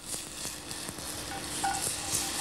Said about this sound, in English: I'm going to fry the mushroom stems